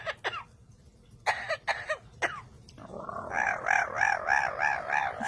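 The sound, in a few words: parrot imitating coughing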